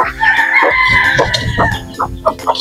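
Native chickens cluck and call loudly nearby on a farm, with a drawn-out crow-like call, shorter clucks and small peeps from newly hatched chicks mixed in.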